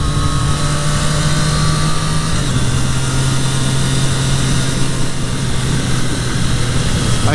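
A 2023 Triumph Street Triple 765 RS motorcycle engine runs with a steady, close droning note that dips slightly in pitch as the throttle eases, mixed with constant wind rush.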